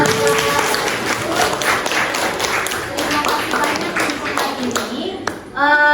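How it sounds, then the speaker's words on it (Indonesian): A school class claps hands together in a dense, steady burst of applause, with voices mixed in underneath. "Kasih tepuk tangan buat kalian."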